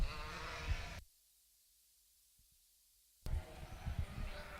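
Sheep bleat at a livestock show in a cattle pavilion, loud bursts at the start and end separated by near silence, with faint crowd noise around them.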